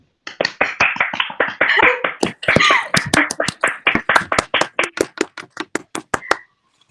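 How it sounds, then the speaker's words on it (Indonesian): A small group claps by hand in an irregular burst, sharp dry claps close up that thin out into a few scattered claps before stopping. "silakan tepuk tangan untuk mengapresiasi penampilan kalian hari ini"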